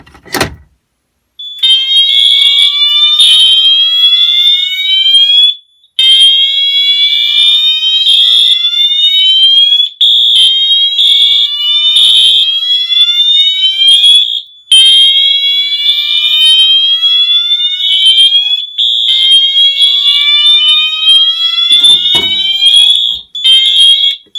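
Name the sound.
fire alarm horn sounding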